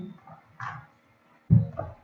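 A puppy gives two short yelps or whimpers, the second louder, separated by a brief silence, close to the microphone with no talk over it.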